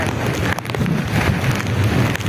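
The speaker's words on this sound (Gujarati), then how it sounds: "પવન એટલો બધો ઊભું ગયો બોલો એટલો પવન લાગે છે" Strong wind on Girnar mountain buffets the microphone with loud, continuous roaring gusts and low rumbling rushes, with no speech.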